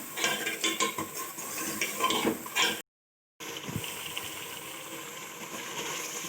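Beef fries with ground spices in a pot, a continuous sizzle broken by scraping and clinking as a utensil stirs against the metal, cut by a brief silent gap partway through.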